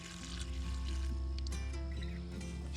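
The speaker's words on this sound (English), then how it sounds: "take some water and pour around it and let it soak down in there" Water poured around a fence post to soak the soil before pulling it: a steady, soft trickling pour, fairly quiet and continuous throughout, with no talking.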